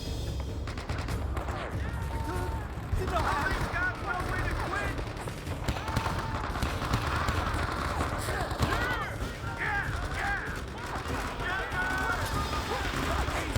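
Sustained covering gunfire in the World War II shooter game Men of Valor, with continuous rapid bursts and distant booms forming a dense battle din, voices shouting faintly beneath the shooting.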